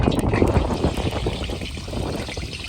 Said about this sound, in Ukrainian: Беремо нашу рульку, вложимо в казан, де в нас вже дуже гаряча олія, і обжаримо.